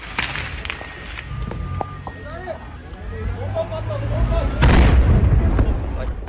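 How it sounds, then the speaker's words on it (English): A large explosion at an aerospace complex during a terrorist attack in Turkey, caught in news footage: a deep, heavy boom swells near the end over rumbling background noise and scattered bangs, with voices faintly audible. "Footage emerged online showing a large explosion and militants entering the complex."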